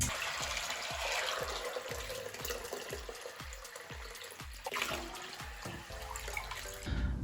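Water pours into a pot of dried beans, a steady close splashing stream with a run of regular gulping pulses, ending in a few clanks of the pot; no one talks.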